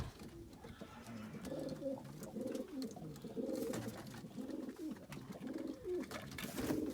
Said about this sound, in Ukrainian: Голуби вилазять.